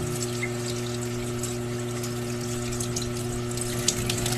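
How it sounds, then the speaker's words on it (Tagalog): Running tap water pours steadily over a yellowfin fish being washed in a sink, a constant close hiss with a low pump hum underneath and no talk. "hugasan muna natin yung isda"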